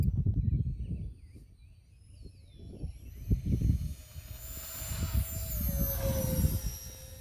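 A Horizon Hobby RC A-10 model jet taking off, its ducted-fan whine rising in pitch and intensity over low rumbling wind, with occasional bumps; the high-pitched engine tone builds steadily as it accelerates.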